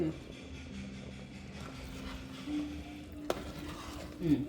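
A pot of homemade veg biryani simmers with a faint, steady bubbling hiss over a low hum, and a soft clink of cookware comes near the end.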